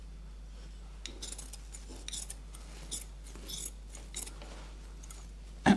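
Quiet snipping of scissors through soft upholstery wadding, several short cuts in an irregular rhythm, ending with a slightly louder clip.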